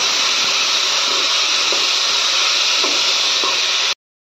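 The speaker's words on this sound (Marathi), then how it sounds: "बटाटा छान परतून घ्यायचा आता मसाल्यामध्ये।" Potatoes sauté in a spice masala for a Maharashtrian tiffin potato bhaji, giving a steady close sizzling hiss with faint stirring taps, which cuts off abruptly near the end.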